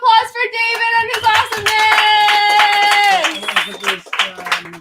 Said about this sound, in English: Big round of applause for David and his